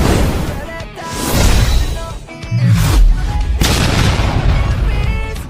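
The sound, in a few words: explosion sound effect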